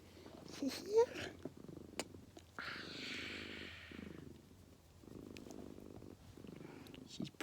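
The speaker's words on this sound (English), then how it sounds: "So you can hear she's purring too." A cat purrs close by in soft, steady rumbling bursts while a person talks over it.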